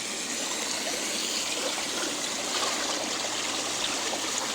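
Water pouring steadily down through drilled holes into a bin for a swimming pool converted to a pond, a continuous close splashing gush with no break across the whole stretch.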